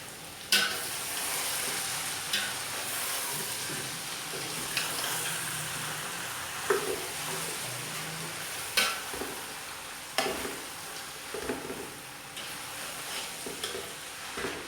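Spinach and potato with masala being stirred in a pan, a steady soft frying hiss under repeated scraping and clinking strokes of a spoon against the metal, no voices.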